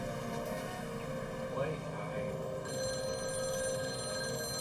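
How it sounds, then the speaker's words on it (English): A telephone rings under a continuous low hum, its tone steady and moderately loud, with a brighter ringing layer joining partway through. "the phone rang."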